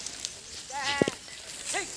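Goats bleat in a farmyard, with one wavering call near the middle followed by a shorter, higher bleat later, both heard alone over a quiet background hiss.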